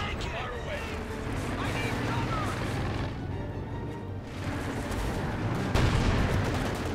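Raketenwerfer anti-tank gun fire in Company of Heroes 2, a dense, continuous battle din of booms and crackling gunfire with one sharper blast near the end, all under steady commentary talk.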